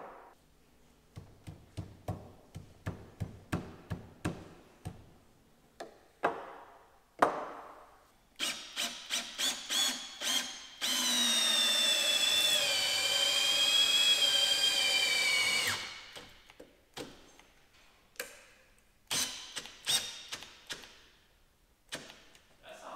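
A power drill boring into timber whirs steadily for several seconds, bracketed by bursts of sharp tapping and clicking before and after.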